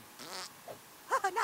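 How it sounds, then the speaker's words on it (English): A cartoonish fart sound effect from the video game South Park: The Stick of Truth, short sputtering bursts played close and loud, with a voice speaking briefly around them. "What is the sound of one anus farting?"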